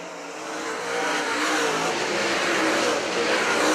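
Race cars roar around an oval on the final lap of a Thunderbird heat race, a loud, steady engine drone that swells slightly as the pack passes, with no talk.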